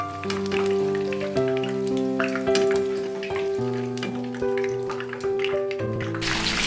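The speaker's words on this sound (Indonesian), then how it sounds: "di sini masih ada sisa terong, jadi ini aku goreng lagi sekali" Eggplant pieces fry in hot oil in a home kitchen, a steady crackling sizzle running throughout beneath fairly loud melodic background music.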